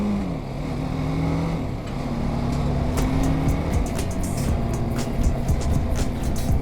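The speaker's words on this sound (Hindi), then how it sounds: "स्टार्ट कर देते हैं गाड़ी को।" A motorbike on a long road trip runs near a petrol pump, its engine holding a steady, close, throaty hum with a few small swells in pitch as the throttle opens, against broad outdoor noise.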